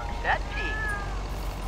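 A cartoon cat meows in the video game Cat Ambulance, one short rising-and-falling mew followed by a longer drawn-out one, clear over a steady low background bed.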